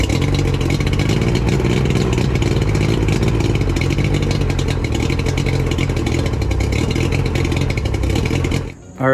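An old Mercury outboard motor runs in a driveway with a loud, steady, rattling engine drone that holds throughout and then cuts off abruptly at the very end.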